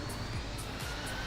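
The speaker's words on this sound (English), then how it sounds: "Turn off those engines." Jet airliner engines idling on stand in Infinite Flight, a continuous broadband whine and roar, steady and close throughout.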